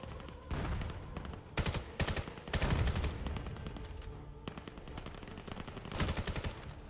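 Competitive VAIL match gunfire: bursts of rapid automatic shots and single cracks come in separated clusters, loud and close, with brief gaps between the volleys and no voices.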